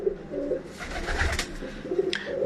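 Teddy pigeons coo on a rooftop, giving soft, low, repeated throaty calls close by. A brief rustle or flutter sounds between the calls, and no one speaks.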